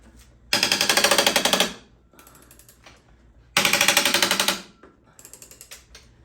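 A hand ratchet works on a part of a Mustang drift car, giving two loud runs of rapid metallic clicks with a quieter, slower run of clicks in between and at the end.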